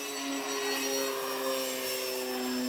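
HobbyKing Arcus F3A RC plane running on 3S with fast throttle, with a steady, loud motor and propeller whine holding continuously at a constant pitch.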